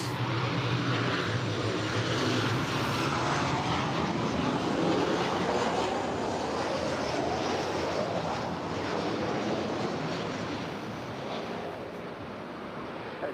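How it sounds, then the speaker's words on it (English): Airliners taking off and landing at LAX airport make a continuous loud jet roar that swells and fades slowly over the span, heard alone without speech. "planes coming in and out of LAX all day long"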